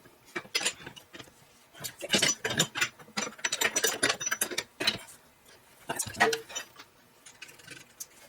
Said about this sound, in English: Then I use a ratchet to torque them down the rest of the way.